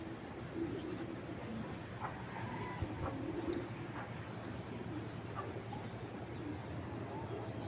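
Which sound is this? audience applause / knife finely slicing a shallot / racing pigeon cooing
racing pigeon cooing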